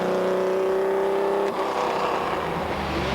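A classic Shelby Cobra racing in a 1997 Tour de France Auto classic rally, its engine droning and whirring steadily, rising to a louder, rougher roar halfway through.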